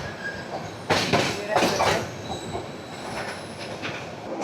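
A broad-gauge train passes on the Dhaka–Chattogram railway line, with a loud rush of wheels and carriages swelling in two strong surges, then settling into a steady, rattling rumble close by.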